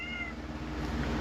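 A pet cat meows indoors at home, a short drawn-out call near the start over a steady background hum, with no talking.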